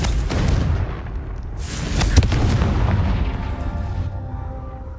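A Confringo fire blast spell bursts in Hogwarts Legacy, a loud booming explosion with a sharp crack near the middle, surrounded by rumbling blast noise and sustained crackling fire over several seconds.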